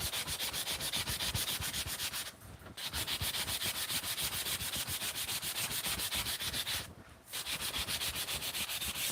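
Hand sanding of wood: steady, close scratchy rubbing strokes in quick rhythm, broken by two short pauses, with no voices.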